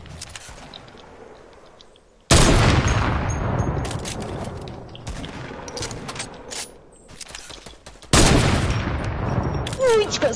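Sniper rifle shots in a video game, loud booming bursts with a sharp burst after a quieter lead-in, then sustained gunfire and another loud volley near the end.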